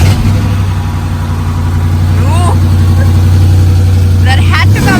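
A Dodge Charger's engine idles with a steady, loud low hum close by, while people talk over it.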